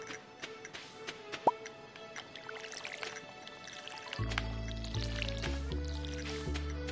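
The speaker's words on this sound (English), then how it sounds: "So let's give these crops some water." Watering crops with a watering can in the farming video game Stardew Valley: soft repeated splashing and sprinkling blips over game music, with a low droning tone joining in the latter part, moderately loud.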